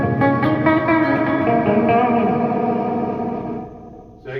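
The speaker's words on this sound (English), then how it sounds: "So that's with your reverb, and you know, so this is all the way up." Electric guitar through a Crate GT3500H solid-state head with reverb all the way up, sustained chords washing out in a long echoing tail that fades to near silence before a faint new strum.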